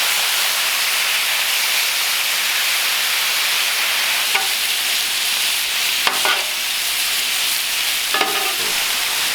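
Marinated steak and chicken fajitas sizzle on a Cuisinart 360° griddle, a loud, steady hiss of frying broken by a few brief scraping clatters.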